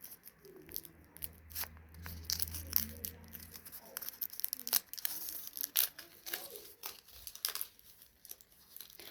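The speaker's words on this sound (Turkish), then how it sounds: "Bugün sizlerle beraber sapı çikolatası açacağız" A chocolate bar wrapper is crinkled and torn open up close, with sharp crackling bursts and rustling plastic over several seconds and no talking.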